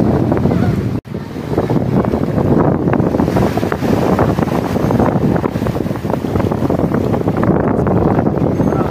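Sea waves at Patar beach in Bolinao, Pangasinan, surging in a constant loud wash buffeted by heavy wind on the microphone, with no clear individual breaks audible.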